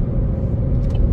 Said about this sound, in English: Now it's blowing the car. Yeah, it's blowing the car around.